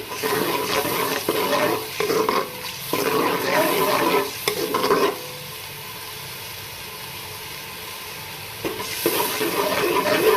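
Eggplant and taro fry with spices in a pan, loud bursts of sizzling and stirring alternating with a quieter stretch of low frying before the stirring resumes, close and without speech.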